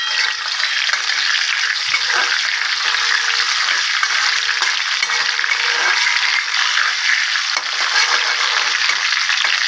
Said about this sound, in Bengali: গোটা জিরা ফোড়নে দিয়ে দেবো।